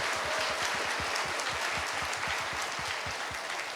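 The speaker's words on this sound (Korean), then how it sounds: "다시 한번 큰 박수로 기대를 해주시죠" Congregation applauding at a church revival meeting, a dense, even wash of many hands clapping, steady and somewhat distant throughout.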